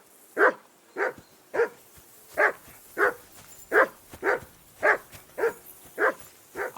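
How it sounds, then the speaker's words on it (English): A dog barks in the medieval video game Kingdom Come: Deliverance, a steady series of about a dozen sharp, evenly spaced barks, close and loud, repeating roughly twice per second with no voices in between. "I assume you can hear that damn dog of yours barking."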